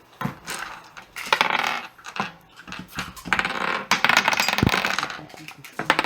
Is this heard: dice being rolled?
yes